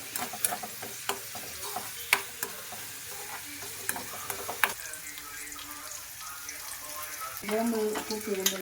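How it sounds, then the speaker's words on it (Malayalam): Chopped ingredients frying and being stirred in hot coconut oil for a Kerala-style dried prawn curry, a steady close sizzle broken by scraping spoon clatters, swelling louder near the end; a voice speaks briefly. "നമ്മ വെളിച്ചെണ്ണയിലല്ലേ ഇത് കാച്ചണ? ശരിക്കും മൂപ്പിക്കണം."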